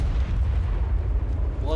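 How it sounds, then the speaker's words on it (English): In the video game ARK Primal Fear, a huge explosion fills the whole moment with a loud, sustained, deep rumbling roar that holds steady, with no break and no speech. "when I heard a huge explosion."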